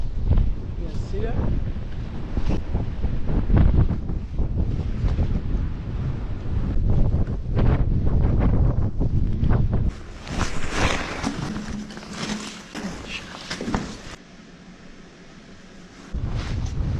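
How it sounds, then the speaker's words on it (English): Strong wind buffeting the microphone on a snowy day in Toronto, loud rumbling gusts that roar and ease continuously, with people talking briefly beneath it. "Super windy right now."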